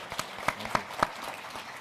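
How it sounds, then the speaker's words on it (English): Steady clapping from a conference audience, a dense patter of many hands with a few sharper claps standing out. "Please join me with a round of applause."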